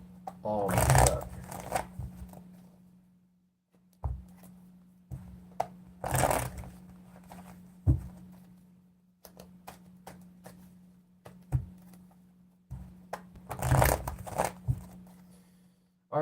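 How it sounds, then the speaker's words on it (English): Tarot cards riffled and shuffled in three brisk bursts, close to the ear, with a person talking softly in the quieter stretches between. "We're gonna just shuffle"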